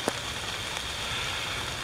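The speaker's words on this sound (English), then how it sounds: "It is raining." Steady rain falls outdoors during a metal detecting hunt, a dense, even hiss of drops on the ground that runs unbroken and fairly close, with no voices.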